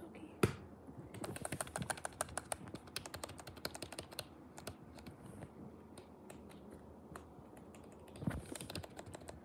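Keys clack on a thocky office keyboard in quick, irregular bursts of close, crisp taps, with occasional heavier strikes standing out above the steady typing.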